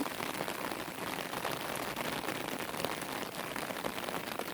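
Steady rain pattering on surfaces, a constant even hiss that fills the whole stretch without pause or voices.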